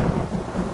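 Deep rolling thunder rumbles loud and steady through a short stretch, with a wash of rain hiss beneath it and no voices.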